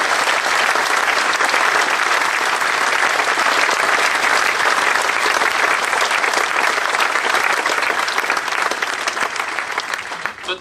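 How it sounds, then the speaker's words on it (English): Sustained applause from a large audience at a school prizegiving and speech day at Bromsgrove School, steady dense clapping for about nine seconds before starting to fade. "Shall we just have one more round of applause for us?"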